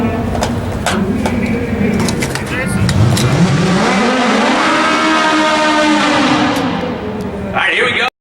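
Drag racing cars at a North Carolina dragstrip, engines roaring and revving up close and loud, with a rising then falling pitch sweep and a voice briefly heard under the noise.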